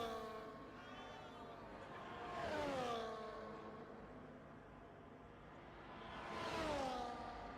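An F1 car on a hot lap in the F1 24 racing game sounds faintly as a high engine whine that rises and falls twice, swelling as it passes close and then fading away.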